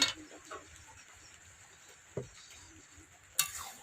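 A spatula stirs ridge gourd and prawn posto curry, finished with mustard oil, in a pan. A few faint scrapes and knocks sound over a low, steady hiss.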